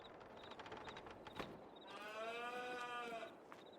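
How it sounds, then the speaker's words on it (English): Cows in the Farming Simulator 22 video game let out a long, drawn-out moo in the middle of a steady farmyard ambience, with fainter calls around it and no talking. "there might be some loose cows as well."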